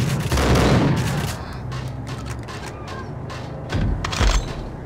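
Gunfire crackles in the Max Payne video game: a loud opening burst of shots, then a scattered string of sharper reports, and a heavy final volley near the end.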